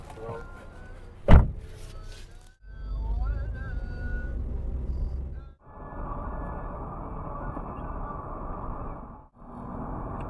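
A taxi pulls up outside for a trip to the market, with a sharp car door thump near the start, then a steady engine rumble and road noise from the car, close and fairly loud.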